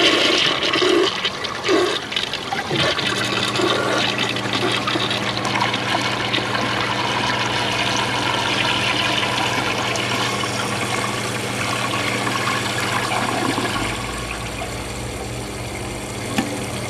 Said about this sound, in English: Let's see how powerful it flushes.